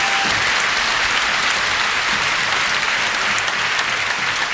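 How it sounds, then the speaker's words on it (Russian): Loud, dense audience applause fills a theatre hall during a comedy league show, a continuous wash of clapping from a large crowd. "Ваши аплодисменты!"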